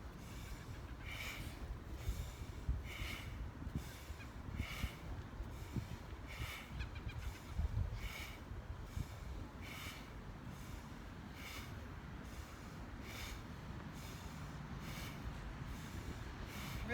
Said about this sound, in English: So in and out through the nose.